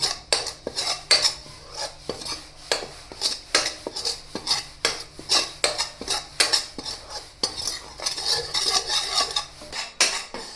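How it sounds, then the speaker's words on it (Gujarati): A metal spoon scrapes and clinks steadily against a pan while wheat flour and gram flour are stirred and roasted, a busy rhythmic clatter lasting throughout with no talking. "હવે આપણે એને થોડીક વાર શેકવાનો છે, બ્રાઉન કલર થાય ને ત્યાં સુધી."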